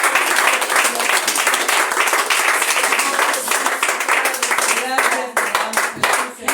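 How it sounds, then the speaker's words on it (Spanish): Church congregation clapping together during a Spanish-language service, loud, close and rhythmic, with a voice calling out over the applause before it thins near the end. "¿Por qué no le da un aplauso al Señor?"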